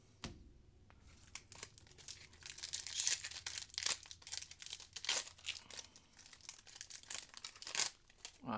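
A Pokemon Darkness Ablaze booster pack being torn open, with close, crisp crinkling and tearing of the foil wrapper coming in short irregular bursts over a quiet room, and no talking.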